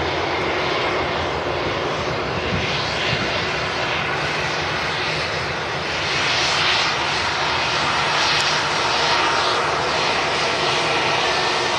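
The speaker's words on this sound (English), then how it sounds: "A380 going to taxi to its orchard gate here at Manchester Gate 12." An Airbus A380 taxiing at Manchester Airport toward Gate 12, its jet engines giving off a steady, broad roar that swells slightly partway through and holds at a fairly close, constant level with no talk.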